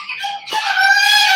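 A pet bird lets out a loud, harsh squawk, then holds a strained, buzzing call for about a second with no one talking over it.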